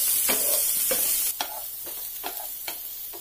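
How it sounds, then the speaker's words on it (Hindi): Onion sizzles in a pan of hot oil after mustard seeds, a bright continuous hiss with a few quick scraping stirs, close and with no voices. "देखिए मस्टर्ड सीड के बाद हम लोग अभी अनियन डाले हैं और उसके बाद हम लोग इसको थोड़ा सा मिक्स करेंगे"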